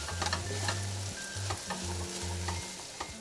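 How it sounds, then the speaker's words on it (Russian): A sour cream or yogurt filling sizzles in a hot frying pan while a utensil scrapes and stirs through it with a steady rhythm, close up and continuous. "Хорошо перемешаем"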